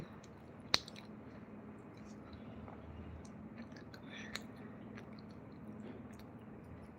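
Soft, close chewing and squishing of food, with moist bites and small clicks, quiet and steady over a faint background hum, with no talking.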